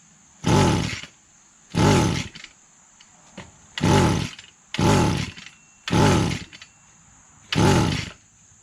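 An Echo GT-200B weed trimmer, a Kioritz Japanese two-stroke, runs off choke in six loud surging revs, each lasting under a second and separated by quieter idle gaps, close to the listener.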